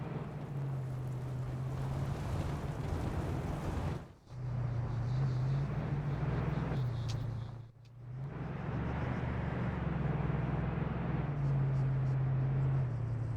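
A car in the video game Arma 3 drives along with a steady low engine hum that wavers in pitch. The sound cuts out twice, and quiet voices talk now and then underneath it.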